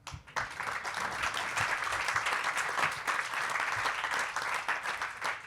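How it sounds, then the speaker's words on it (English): An audience at a Geneva watch industry symposium breaks into applause, a broad, even wash of many hands clapping together, filling the room steadily without a break. "You may applaud."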